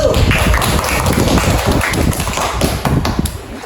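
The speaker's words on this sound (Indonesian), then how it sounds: "tepuk tangan dulu untuk kelompok 1" A classroom of students applauding a presenting group, with dense, steady clapping from many hands at close range for a few seconds, then fading slightly.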